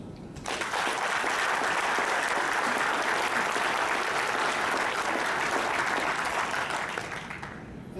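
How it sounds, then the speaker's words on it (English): Sustained applause for award winners at a conference awards luncheon, a full room clapping loudly and evenly for several seconds before tapering off. "let's have a nice round of applause for all the World Awards winners"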